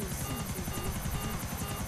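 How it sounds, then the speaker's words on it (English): A helicopter flies in GTA 4, its rotor chopping out a fast, steady whirring beat under a loud, continuous engine roar, close and unbroken throughout. "crash land this helicopter right into the center of the evac point"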